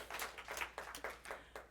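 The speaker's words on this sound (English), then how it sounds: "Let's give them a round of applause, everyone." Church congregation applauding to welcome four new people at a Sunday service, a quiet, scattered round of clapping with uneven bursts and no talk.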